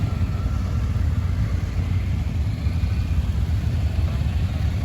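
A group of bikers' motorcycles rumble past on a mountain road, a steady mid-pitched engine drone at moderate distance with no clear peaks.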